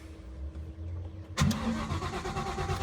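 A car with a supercharged Ford Coyote V8 is cranked over during fuel pump troubleshooting. After a low steady hum, the engine catches with a sudden louder burst and keeps running with a rough, close rumble. No one talks.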